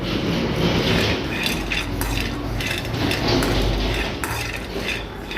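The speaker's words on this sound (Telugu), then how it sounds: "బాదం పప్పుని మీకు కుదిరితే మనం మనం నానబెట్టుకోవచ్చు లేదు మేము పచ్చియే వేసుకుంటాం అనుకుంటే కనుక ఇలా డ్రై రోస్ట్ చేసుకుంటే సరిపోతుందండి" Almonds being dry-roasted in a pan over a low flame, giving a steady, continuous clatter and scrape of nuts and a utensil moving against the metal, close and constant throughout.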